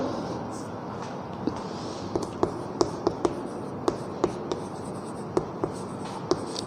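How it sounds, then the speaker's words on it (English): A pen or marker taps and scratches across a board or page as a math statement is written during a class lesson, a dozen or so sharp little strokes over a soft, steady room hiss. "So the final statement we are going to write."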